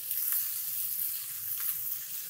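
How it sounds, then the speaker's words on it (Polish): Bone-in pork loin sizzles steadily in a pan, a soft continuous frying hiss with faint crackles, close and alone without voices. "jeśli nasz schab już tak naprawdę powoli się smaży z drugiej strony"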